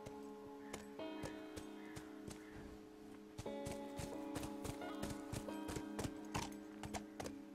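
Horse hooves clip-clopping at a steady walking pace in The Last of Us video game, the sharp regular hoof strikes sounding close over a sustained musical drone, with no talking.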